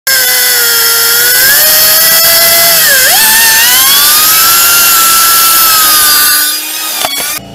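A power tool saws loudly and continuously through a sway link on a 2009 Dodge Avenger. The cutting pitch dips briefly partway through, then the tool winds down and stops at the end.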